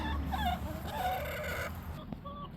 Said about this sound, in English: They're all such lovely chickens.